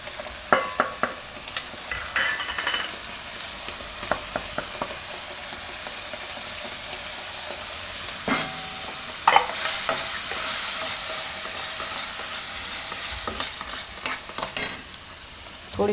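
Chopped onions fry in oil with a continuous sizzle while a spoon scrapes and knocks against the pan in irregular bursts. The clatter grows busier toward the end.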